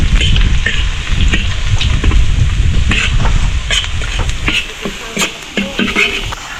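Garlic sizzling and frying in a hot pan at a birthday cooking session, a steady loud crackle with occasional clinks and stirring, easing toward the end.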